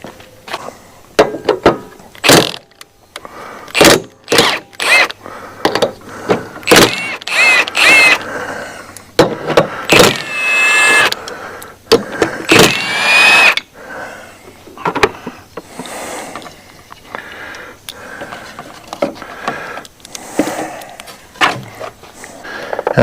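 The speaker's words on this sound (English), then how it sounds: "I think I'll get my impact and we'll swap the fan to the new clutch." An impact wrench works on a 2006 Chevrolet Silverado Duramax, swapping the fan onto a new fan clutch: repeated short, sharp bursts of rattling hammering, close and loud, with clanks and shop noise between them.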